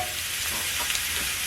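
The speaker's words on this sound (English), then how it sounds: "Also nice to cook shrimp." Shrimp frying in a hot pan under a press weight, a steady, loud sizzle with a continuous crackling hiss throughout.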